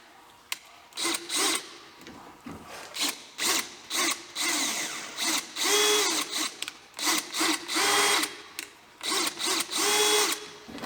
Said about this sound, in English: the rivets often spin as you're trying to drill out the center